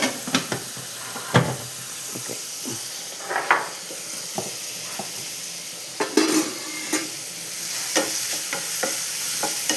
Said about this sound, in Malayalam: ഞാൻ ഒന്ന് ഇളക്കിയിട്ടിട്ട് ഒന്നും കൂടെ ഒന്ന് ആവി കയറ്റിക്കൊണ്ടെങ്കിൽ